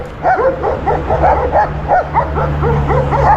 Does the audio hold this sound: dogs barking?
yes